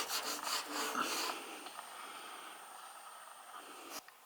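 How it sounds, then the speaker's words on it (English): Rag rubbing eucalyptus oil into old door seal foam residue on a door frame, close brisk scrubbing strokes at first that fade into quieter rubbing, ending with a sharp knock. "So I'm using the eucalyptus oil now to get rid of the residue."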